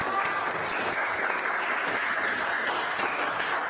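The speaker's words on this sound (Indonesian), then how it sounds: "Semuanya tepuk tangan untuk kamu." In a classroom, a group applauds steadily for a few seconds. The clapping is dense and mid-level, without talk.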